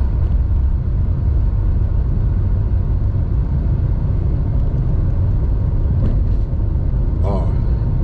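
Dense low rumble of many cars gathered at Atalaia beach in Luís Correia, Piauí, a steady broad traffic-like roar filling the scene, with a voice talking over it and a brief brighter vehicle sound near the end.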